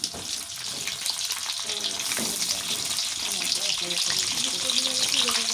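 Bay leaf, cinnamon, garam masala and cloves frying in mustard oil crackle with a steady loud sizzle, a continuous bright hiss with small pops close at hand in a home kitchen.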